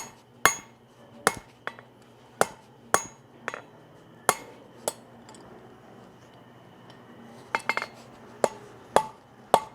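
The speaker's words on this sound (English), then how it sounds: "I'm hammering this at a little bit of an angle." Hot steel is hammered at an angle on an anvil to shape a weld scarf, with about a dozen sharp ringing blows at an uneven pace, a few in quick clusters, close and loud.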